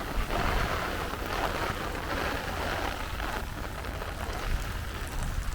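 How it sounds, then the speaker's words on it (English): Heavy rain pouring onto a Brooklyn street in windy weather, a dense, steady hiss and patter that stays loud and close throughout with no voices. "You hear that rain, guys, and it has gotten windy out"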